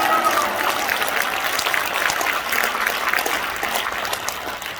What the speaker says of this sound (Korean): 할렐루야 박수 한번 치겠습니다